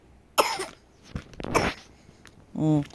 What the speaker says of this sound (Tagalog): Kapag inuubo, cover your mouth.